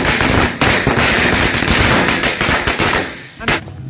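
A rapid, loud string of bangs from a mix of four kinds of Indonesian matchstick firecrackers (mercon korek), crackling almost continuously, then a brief lull and one final sharp burst near the end.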